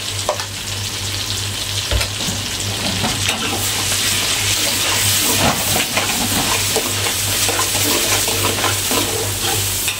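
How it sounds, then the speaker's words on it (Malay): Pepper and garlic fry in hot oil for Maggi goreng with prawns, a loud, continuous close sizzle with scraping and stirring throughout and no talking. "Kita masukkan lada bawang yang dikupas tadi."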